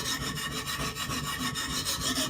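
Knife blade rubbed firmly back and forth on a sharpening stone lubricated with isopropyl alcohol and turps, a close, steady rasping scrape in quick rhythmic strokes.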